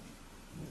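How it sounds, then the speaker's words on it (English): Soft, steady night rain with a low distant rumble of thunder swelling near the end, fairly faint and continuous with no voices. "the soft patter of night rain on distant rooftops"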